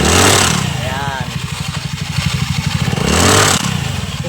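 Motorcycle engine revving hard with a rattling, clattering noise from the clutch bell, two loud rising revs around a chugging idle, close up with a voice briefly over it.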